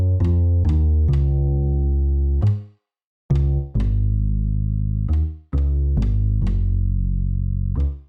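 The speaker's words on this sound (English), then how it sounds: "A nice playful bass line, and the sound came from Xenology by Roland." Playful upright bass line from a Roland Xenology preset, plucked notes with clear attacks and sustained low tones, played alone, a short gap midway and a few quick grace notes.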